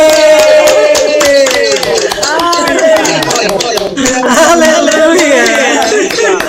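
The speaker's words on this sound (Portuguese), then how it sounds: "Vamos aplaudir, amados, o nosso supervisor." A church congregation applauds during a worship service, the clapping dense and continuous beneath loud overlapping voices and cheering.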